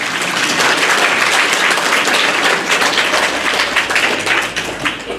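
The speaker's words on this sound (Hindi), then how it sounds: "जोरदार ताली बजा दें अपने लिए।" An audience at a talk on happiness breaks into loud, sustained applause, dense and steady throughout with no voices standing out.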